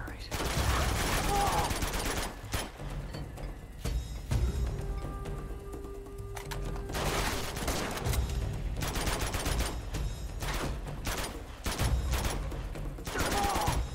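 Sustained gunfire in the Uncharted 2 video game, loud rapid bursts of shots with brief pauses, rattling mechanical clatter and ringing tones between volleys, dense and continuous over about fourteen seconds.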